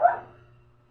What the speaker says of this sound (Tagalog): Ay nako, tumatahol pa itong na to.